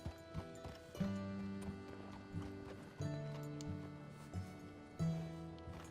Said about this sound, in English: I'll just take the horse up